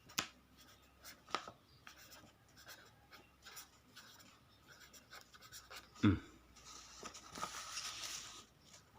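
Pen or pencil scratching across paper on a tilted table while working out lottery number sets, quiet and continuous with a few sharper taps and rustles throughout.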